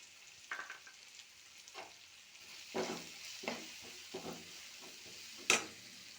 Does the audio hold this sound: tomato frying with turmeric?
yes